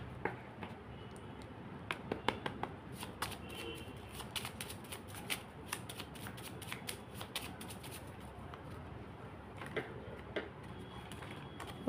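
Tarot cards being shuffled by hand, a steady stream of quick papery riffles and taps at close range, fairly soft and continuous with small louder snaps scattered throughout.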